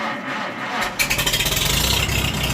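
Tractor engine being started with the choke on: a brief starter whir gives way to a sudden catch, then a loud, close, chugging idle with a quick regular pulse, no voices.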